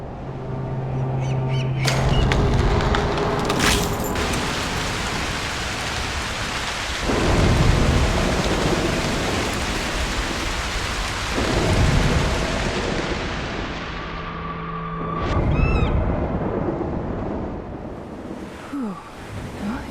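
A thunderstorm in the video game Broken Pieces: steady heavy rain pours on surfaces while several deep rolls of thunder rumble and crack across the scene.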